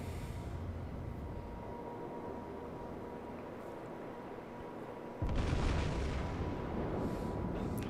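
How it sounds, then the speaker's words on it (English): World of Warships battleship gunfire aimed at an island: a long low rumbling roar that jumps into a sudden loud, broad blast partway through and carries on as a heavy boom and wash. "Shimagi just shot the hell out of that island"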